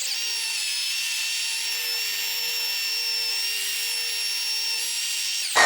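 A rotary polisher spins steadily at about 1500–1600 RPM, cutting out 1500-grit sanding marks with a whining, even motor tone held unbroken and close, then a brief bump at the end, with no talk.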